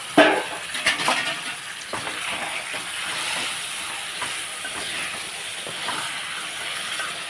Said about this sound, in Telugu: చికెన్ వేసేసుకుని మూత పెట్టేసుకుని ఒక ఐదు నిమిషాలు దీన్ని బాగా మగ్గనిస్తాం